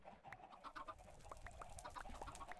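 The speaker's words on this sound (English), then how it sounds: "A chicken got in here." Chickens in the Minecraft video game give a string of short, repeated clucks, quiet and fairly close, in an uneven rhythm over low background noise.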